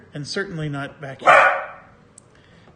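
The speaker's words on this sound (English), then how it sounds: "sorry about my dog" Pet dog barking indoors during a tabletop game session: a loud, close burst of barks rises just after a voice finishes speaking, then fades into quiet.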